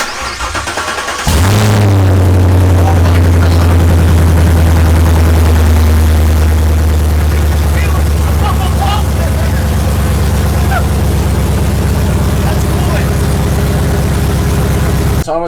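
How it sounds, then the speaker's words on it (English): A 6th-gen Camaro LT1 V8 fitted with long tube headers cranks and fires up for its first start, then settles into a loud, steady, rumbling idle close by that continues throughout. "It's the official first start with the long tubes."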